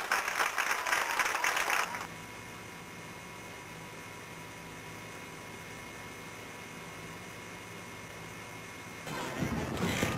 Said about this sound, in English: I think we need to applaud the students